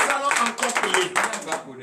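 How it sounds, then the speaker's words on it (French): A church congregation claps and cheers during a French-language morning prayer service in Benin, a dense, loud burst of applause mixed with voices throughout. "Donnez l'acclamation à Jésus."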